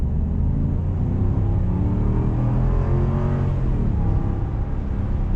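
A 2022 Jeep Wagoneer with a 5.7-liter Hemi V8 pulls away under throttle, its engine drone steady and loud with rising and falling harmonics as it accelerates, heard from inside the cabin with no talking.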